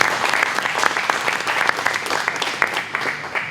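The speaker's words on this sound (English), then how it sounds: "Join me in giving them all a round of applause." An audience at a Manufacturing Day 2015 press event gives a sustained, dense round of applause for sponsors, steady and fairly loud throughout with no speech over it.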